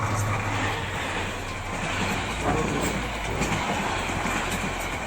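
A Bangladeshi intercity train rumbles along steadily, a dense continuous roar of wheels and carriage noise with little variation, heard from close by.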